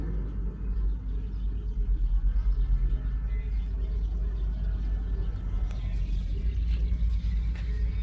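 A ferry's engine rumbles steadily as it prepares to leave port at Port Jefferson, New York, a loud continuous low drone that fills the scene without letup.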